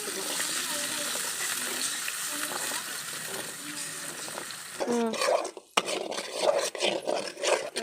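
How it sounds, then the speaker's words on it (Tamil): Eggs frying in oil in a pan for egg vegetable noodles give a steady, dense sizzle through most of the stretch, followed by a few sharper clatters and bursts near the end. "நாலு முட்டை முட்டையாக பொறிச்சு எடுத்துக்கலாம்"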